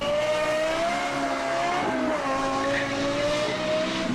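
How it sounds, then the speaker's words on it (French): A Lexus LFA's V10 engine revs high and wails continuously nearby, its pitch holding high with slight rises and dips, loud and unbroken. "Le bruit de la LFA est incroyable."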